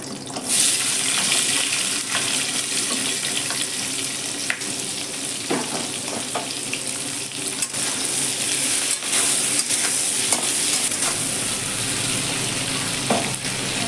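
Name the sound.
onions frying in oil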